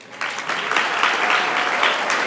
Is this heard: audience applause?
yes